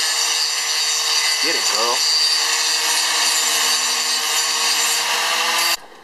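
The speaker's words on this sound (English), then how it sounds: "You grind that metal." Steady, loud metal grinding on a front brake knuckle for a four-wheel disc brake conversion, continuous for about six seconds before cutting off abruptly; a brief voice speaks over it early on.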